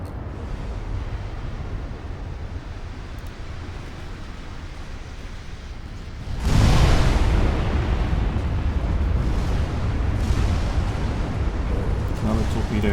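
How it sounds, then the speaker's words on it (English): Torpedoes striking warships in the naval game Ultimate Admiral Dreadnoughts: a quieter rumbling backdrop, then a sudden heavy explosive blast about halfway through that swells into a loud, sustained roar of rolling booms. "Whole bunch of torpedo hits though, that helps."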